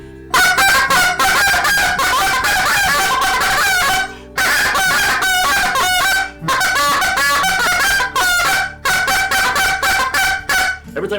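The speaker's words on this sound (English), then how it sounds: "the Hess call was operated open-handed" A Hess goose call, blown open-handed, gives loud, clear honks in fast repeated bursts, with short pauses between runs and no other sounds.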